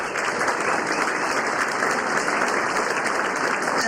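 A crowd at an Illinois political primary forum claps for the event's sponsors, a continuous, full burst of many hands applauding at a steady level throughout, close and uninterrupted.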